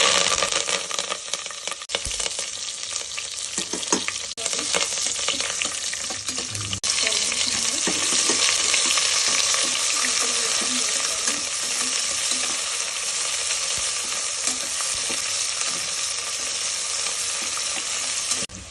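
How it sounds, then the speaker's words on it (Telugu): Onions for an Andhra-style prawn biryani sizzle steadily in a hot pan with oil, with a continuous loud frying hiss throughout and occasional stirring scrapes mixed in. "ఇది కొంచెం లైట్ గోల్డెన్ బ్రౌన్ వచ్చే వరకు ఆనియన్స్ వేసుకోవాలండి."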